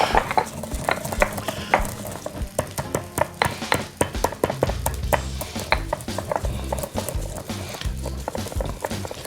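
Close, rhythmic scraping and knocking as Sudanese green cumin and other spices are ground by hand, a steady run of short gritty strokes with no talking.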